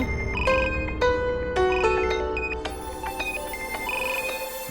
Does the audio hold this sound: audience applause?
no